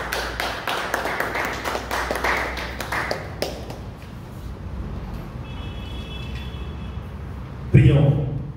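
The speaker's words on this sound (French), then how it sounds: "Est-ce qu'on peut applaudir très fort le Seigneur?" A church congregation applauds during a worship service: dense, rapid clapping fills the first few seconds, then it fades into a quieter room with talk and murmurs.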